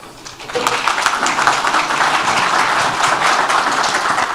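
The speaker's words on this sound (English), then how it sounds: "please another round of applause for Dr. Yılmaz and Dr. Hammour" A forum audience claps for two speakers at an economics conference in Istanbul, the dense clapping building quickly after a brief quiet start and holding steady and fairly loud to the end.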